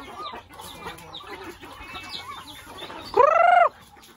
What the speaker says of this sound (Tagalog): papakainin na natin ang mga manok